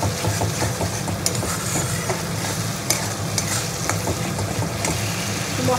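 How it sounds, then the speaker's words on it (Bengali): Spice paste sizzling in a pan with fish and potatoes, a continuous close frying hiss with steady stirring scrapes and occasional clicks of a spoon against the pan. "একটু ভালো করে মশলাটাকে কষিয়ে নেবো।"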